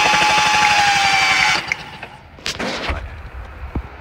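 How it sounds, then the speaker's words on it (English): Car engine cranked by the starter with the spark plugs removed, a rapid, steady whirring chug for about a second and a half, then breaking into irregular knocks and bursts of noise, loud and close. "Leave the plugs out and turn it over to get rid of it."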